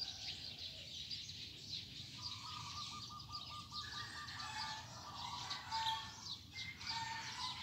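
Roosters crow at dawn on a cool rural morning, a few drawn-out calls standing out over a steady hiss of background birdsong, moderately distant and not loud.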